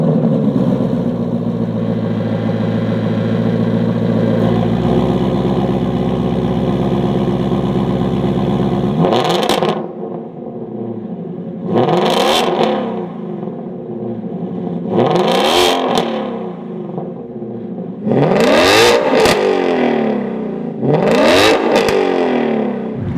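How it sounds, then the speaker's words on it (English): A Shelby GT350 fitted with a Borla ATAK exhaust starts for the first time: a loud close idle rumble, then a series of sharp revs rising and falling, five distinct throttle blips in a row. "we just got the car all wrapped up with the Borla exhaust. We're going to go ahead and give it the first start up now"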